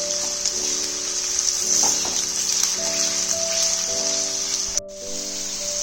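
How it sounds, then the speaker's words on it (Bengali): Potato pieces fry in a pan until lightly golden, giving a continuous bright sizzling hiss over steady background music tones. "আলুগুলো হালকা গোল্ডেন ব্রাউন হয়ে সেদ্ধ হয়ে যাবে, ততক্ষণ ভালো করে ফ্রাই করে নিতে হবে।"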